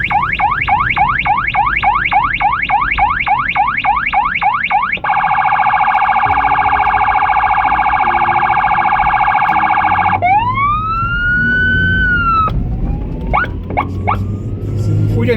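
An ambulance siren wails loudly close behind a car on a winter drive from Buda to Pest, cycling through rapid yelp, steady hi-lo tone and rising sweeps.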